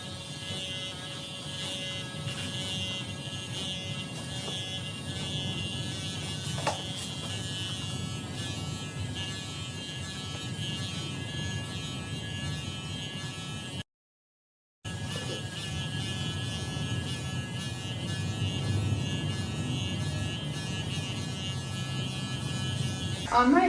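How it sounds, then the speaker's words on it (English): Electric clippers hum steadily and close while grooming a dog's coat, a continuous buzz broken once by a brief silence, with someone talking over it at times. "when I start my clipper work, I'm going to start around the area of the withers"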